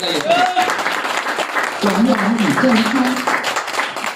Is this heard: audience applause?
yes